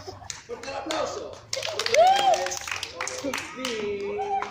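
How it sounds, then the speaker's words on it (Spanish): Young girls at an orphanage clap together in a steady rhythm during a sung hand-clapping game, with their singing voices running over the claps. "Fuerte el aplauso."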